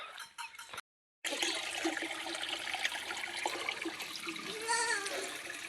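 Water running from a tap into a container, a steady splashing stream after a brief cutoff, fairly faint and alone.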